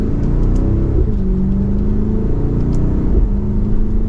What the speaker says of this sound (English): We did get some pops in that exhaust too